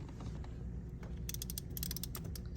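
Ratchet clicking as a spark plug is hand-tightened on a second-generation Toyota Tundra, a quick series of small close mechanical clicks over a low steady background hum.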